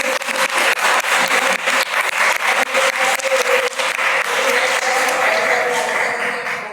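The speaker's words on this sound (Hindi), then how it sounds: "एक बार जोरदार तालियां दें।" Loud, dense applause from a large theatre audience, steady and sustained throughout with many overlapping claps.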